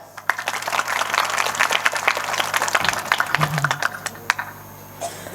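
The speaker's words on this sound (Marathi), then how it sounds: "स्त्री महिला मंडळ पुरुषांकरता एकदा जोरदार टाळ्या" Crowd applause at a Marathi kirtan with dense, crackling claps, fairly loud and sustained, tapering off toward the end.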